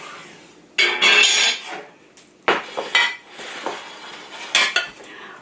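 A meatloaf mixture is scraped and pressed into a glass Pyrex baking pan, giving uneven bursts of utensil scraping and clinking against the dish with short pauses, close and fairly loud, no speech.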